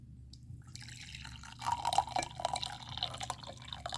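Water pouring into a coffee mug, a faint trickling splash that starts after a quiet moment and continues softly with small bright drips over a low background hum.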